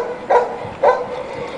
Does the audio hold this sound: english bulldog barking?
yes